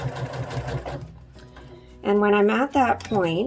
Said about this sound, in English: So I'm going to sew until I'm about 3 centimeters from the top edge here.